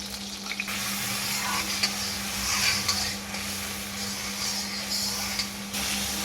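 Spice paste with cumin and asafoetida frying in hot oil, a steady close sizzle and hiss with occasional stirring scrapes running throughout.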